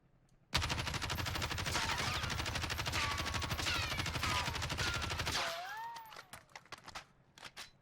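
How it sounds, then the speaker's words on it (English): Sustained automatic fire from a Kilo assault rifle in the video game Warzone, a loud continuous burst of rapid shots lasting about five seconds, then stopping abruptly into a few scattered trailing clicks and faint echoes. "as the gun shoots, I'm going to try to counteract the recoil with my mouse"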